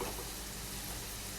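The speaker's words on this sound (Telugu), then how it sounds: "అన్నీ కూడా ఇలా గోల్డ్ కలర్ వచ్చేంత వరకు ఫ్రై చేసుకోవాలండి" Potato pieces fry in oil for a chicken curry, giving a soft, even sizzle that holds steady and fairly quiet through the short moment with no voices.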